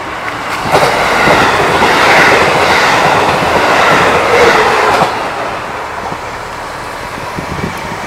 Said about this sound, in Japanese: まもなく2番線に下り列車が参ります。